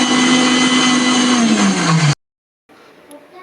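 A kitchen mixer grinder whirs loudly while grinding onion paste, a strong motor drone that sags in pitch for about two seconds, then cuts off abruptly, followed by faint clatter.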